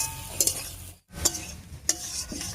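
Boiled bottle gourd is stir-fried with ginger and poppy seed paste in a pan, with close scraping and clinking spatula strokes over a sizzle and a brief silent gap partway through.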